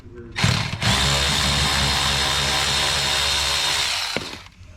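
A power drill runs steadily for about four seconds, loud and close, backing out 7mm screws from a panel, with a short start burst and a tail-off at the end.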